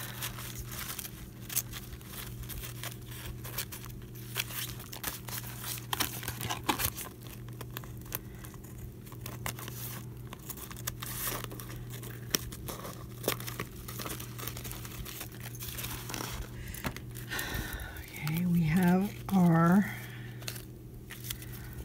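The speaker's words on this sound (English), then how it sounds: "we are going to trim up" Altered playing cards being trimmed at close range, with light papery crinkling and cutting sounds over a low steady hum, followed by a brief burst of voice near the end.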